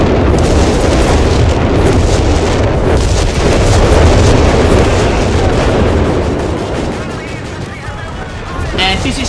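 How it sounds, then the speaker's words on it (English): A barrage of explosions from an anti-tank cannon ability in the strategy game Company of Heroes 3 keeps up as a dense, continuous roar of blasts and booms, loud throughout and easing slightly toward the end. "So I use my ability on this anti-tank cannon."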